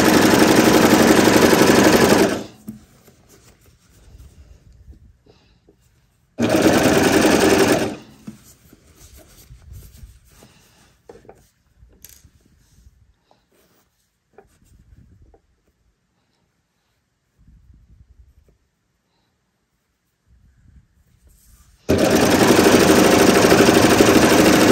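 A serger sews a stretched knit neckband in three loud, rapid mechanical runs, each lasting a few seconds, separated by long quiet stretches of faint fabric handling.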